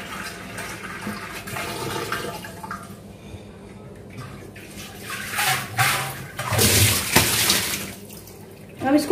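Tap water is swished and rinsed inside a clay matka pot, giving uneven sloshing and splashing with a few louder gushes as it is poured out, near and without talk.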